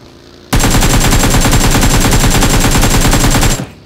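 M4 rifle firing in the BGMI battle royale game, a loud, rapid sustained burst of automatic gunfire lasting about three seconds, starting abruptly and cutting off cleanly.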